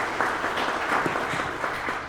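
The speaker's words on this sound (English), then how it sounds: "let's give Jared a round of applause here." Audience applause after a brewery speaker's talk, a short burst of many hands clapping steadily at fairly close range.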